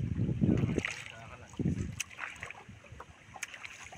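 A hand-rowed wooden boat out in the middle of the Kushiyara river in the Bangladesh countryside, with two heavy, low oar-stroke swishes and splashes over a wind-buffeted background and faint distant voices.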